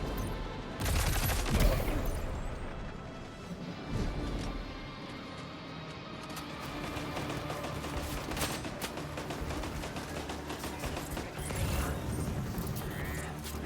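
Turrets fire in the video game Death Stranding 2, bursts of rapid gunfire mixed with mechanical clanks and creaks, a steady rattling barrage of moderate loudness with little talk.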